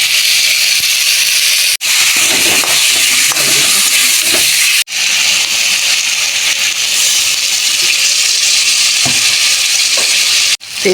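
Red, yellow and white capsicum sizzle in hot oil for a Bengali rui fish curry, a loud, continuous close-up frying hiss broken by a couple of brief cuts.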